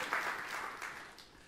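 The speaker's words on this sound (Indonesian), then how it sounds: "Tepuk tangan yang meriah" Lively congregational applause at a church sermon, a quiet, brief patter of many hands clapping that fades slightly toward the end.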